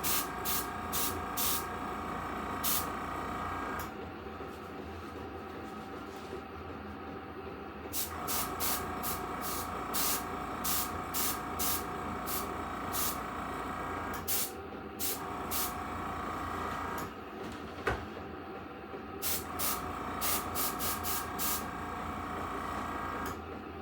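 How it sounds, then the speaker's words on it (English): An airbrush sprays blue paint in a soft, steady hiss that runs in long bursts with short breaks between them. A faint mechanical ticking sits under the spray, and nobody speaks. "I have a couple of different brands of airbrush paint."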